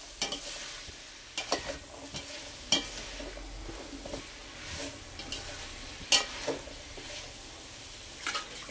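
Carrots, potatoes and peas for vegetable biryani stirred in a pan, giving soft scraping strokes and light sizzling, with intermittent sharper clicks of the spoon against the pan.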